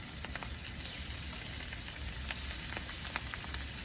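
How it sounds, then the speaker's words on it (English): Mixed vegetables and shrimp fry in a pan with a constant crackling sizzle and scattered small pops, steady and close with no talking. "I want the mixed vegetable to be fried really nice."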